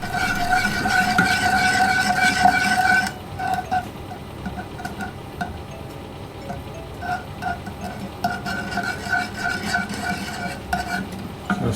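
A spoon stirs a brown sugar mixture for oven-baked BBQ ribs, scraping steadily around a bowl in quick close-up strokes, with a faint tonal hum behind it.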